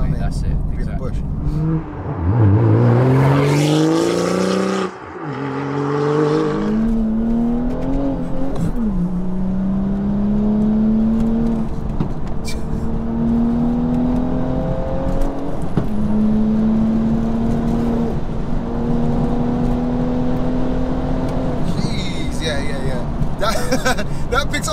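A 500bhp wide-body BMW M235i accelerates hard and keeps pulling, its engine note rising steadily through the gears, loud and close from inside the car. Voices talk over the engine for much of the run.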